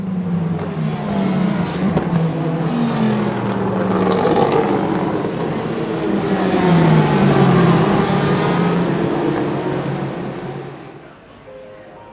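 A Ford GT race car at speed on the Mulsanne Straight at Le Mans, its engine a steady droning roar that swells and fades across the run, with faint voices underneath.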